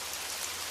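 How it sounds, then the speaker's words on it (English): Rain falls steadily and densely as a continuous bright hiss, a brief moment of evenly spread drops with no other sounds. "Just the rain, falling harder now."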